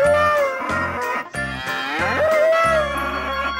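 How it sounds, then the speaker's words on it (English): In a 3D wild-animals video game, a buffalo gives a series of deep, drawn-out lowing calls, loud and near, with brief pauses between each bellow and no talking. "Buffalo."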